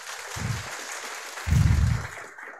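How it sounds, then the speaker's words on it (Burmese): Applause from an audience at a business training session, a thin scattered patter of clapping with a couple of low thumps, fairly quiet and steady, with no voices over it. "ကိုကြီးဆမ်းမင်းအတွက်လက်ခုပ်တကြကြလေ"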